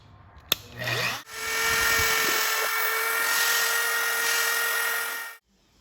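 A loud, high-pitched grinding whine from a tungsten electrode sharpener grinding a 3/32 electrode starts after a click, holds steady for several seconds, then cuts off abruptly.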